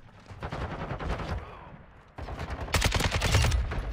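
Modern Warfare 2 gameplay gunfire crackles in rapid automatic bursts, pausing briefly before a louder, denser stream of shots, close and sharp, with no talking.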